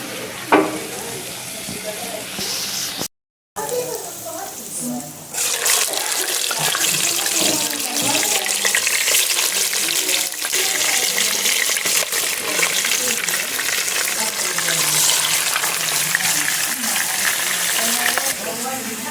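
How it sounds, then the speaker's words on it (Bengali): Tap water runs steadily into a kitchen sink while meat and potatoes are washed, a continuous splashing wash that starts a few seconds in after a brief cut and fills the rest of the stretch. "এইখানে সুন্দর মতো গোস্ত আর আলু ধুয়ে কমপ্লিট"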